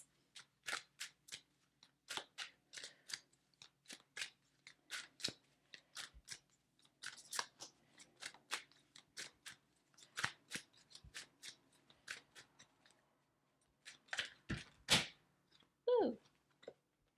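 Tarot cards being shuffled and handled up close: soft, quick riffling and snapping bursts in an irregular rhythm, quiet and alone without talk.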